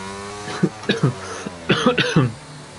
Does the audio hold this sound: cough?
yes